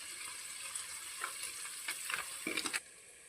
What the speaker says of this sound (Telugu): ఒక చెంచా పసుపు వేసుకోవాలి వీటిని అయితే కలుపుకోవాలండి